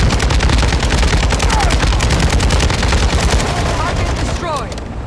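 Rapid, loud bursts of automatic gunfire in the video game Warzone 2.0 crackle continuously for several seconds, dense and close, with sharp repeated shots that ease slightly toward the end.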